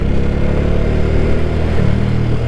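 Motorcycle engine droning steadily on a misty mountain road through pine trees and tea gardens near Darjeeling, a constant mid-pitched hum with slight revving, close and loud throughout with no talk.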